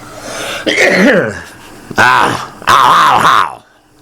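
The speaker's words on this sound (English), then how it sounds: "Excuse me, I'm going to cough." Three harsh, voiced bursts from a nearby wheezing person, rough and throaty, separated by short pauses; sounds like strained coughing or hacking.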